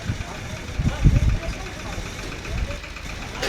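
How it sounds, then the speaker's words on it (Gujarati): A three-wheeled tractor engine idles with a low, uneven chugging and a few louder bursts, while people talk nearby. "આપણે લેવાની હતી 3 ટાયરવાળા ટ્રેક્ટરની ટેસ્ટ ડ્રાઈવ"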